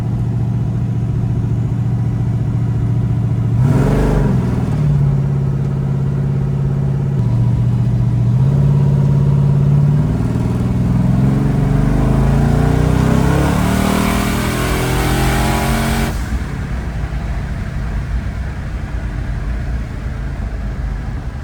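A car driven on a race track after a crash, its engine loud and close throughout, rising and falling through several revving pulls and gear changes before settling into a steadier drone.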